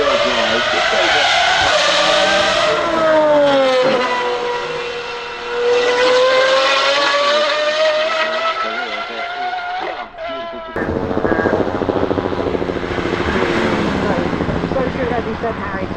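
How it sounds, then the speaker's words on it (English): An Aston Martin Valour V12 accelerates up the hill at the Goodwood Festival of Speed, its engine wailing in rising pitch sweeps close and loud, with a commentator talking over it. "V12, you can probably tell listening to the sound"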